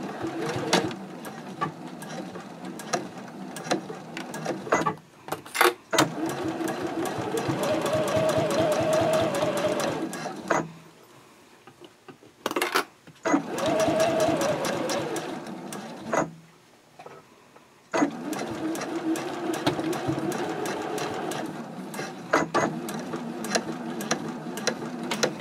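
A sewing machine stitches a zipper case panel at a 3.0 stitch length, running in several steady whirring bursts separated by short pauses and near silence.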